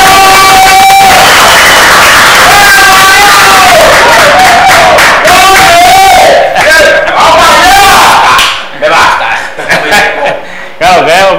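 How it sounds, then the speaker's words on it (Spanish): A crowd at a drinks venue whoops and shouts in loud, close cheering, with overlapping voices and laughter swelling together before thinning into scattered calls near the end. "El aplauso para Dani Punto Rojo"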